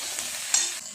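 Eggplant and potato pieces fry in a pan with a brief, close, hissing sizzle and one sharper scrape midway.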